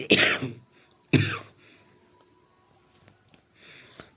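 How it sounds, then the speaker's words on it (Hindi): Two sharp coughs close to the mic, about a second apart, followed by quiet room tone and a faint breath. "थोड़ी सी खांसी हो गई है"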